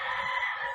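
A chicken crows at 6 a.m. in a brief, steady, fairly loud call heard close by with no talk.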